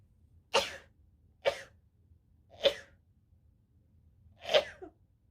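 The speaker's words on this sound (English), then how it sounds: "Not quite a sneeze, not quite a cough." Four sharp, explosive bursts spaced about a second apart, each a snuffly cross between a sneeze and a cough, close and fairly loud over quiet background.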